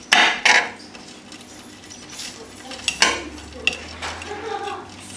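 A blunt knife scrapes the innards out of a whole fish, giving several loud scraping strokes and clinks against a hard surface, up close and with no voices.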